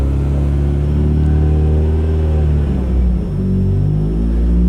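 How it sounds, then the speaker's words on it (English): A Ford Focus engine idles high, a loud steady close rumble with a slight dip and recovery partway through, heard alone with no talk. "Don't really know why it's idling so high."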